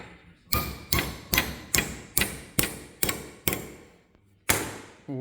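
A hammer strikes a motorbike part clamped in a vise for a chopper build, about eight steady metallic taps roughly half a second apart, then a short gap and one final blow.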